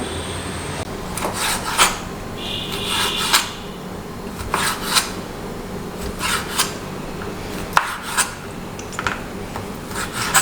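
A knife cuts squid into rings on a board, giving a series of short scraping and tapping strokes in an irregular rhythm, close and fairly loud, with no talking.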